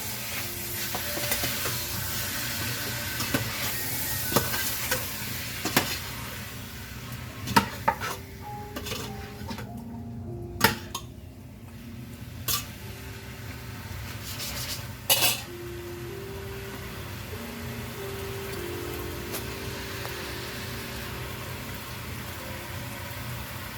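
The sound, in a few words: ajiaco ingredients being stirred and sautéing in the pot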